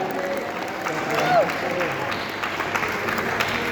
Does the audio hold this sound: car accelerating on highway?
no